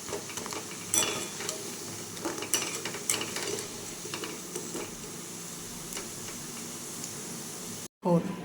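Lentil fritters (dal bora) frying in hot oil at a roadside-style stall setup give off a steady crackling sizzle, broken by a few sharp utensil clinks and scrapes and a brief dropout near the end.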